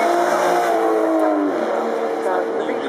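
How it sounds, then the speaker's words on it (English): An Aston Martin V12 supercar at the Goodwood Festival of Speed 2012 sweeps past, its engine note holding steady and then dropping in pitch as it goes by, with a commentator talking over it. "The V12 engine"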